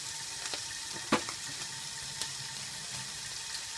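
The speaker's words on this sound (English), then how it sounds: "Don't touch it, let it cook, let it do its thing." A steak seasoned with pink Himalayan salt and black pepper fries in a pan, giving a steady, quiet sizzle with a few faint pops and clicks.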